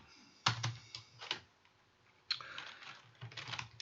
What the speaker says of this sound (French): je vais cliquer dans le champ de texte et je vais écrire mon texte.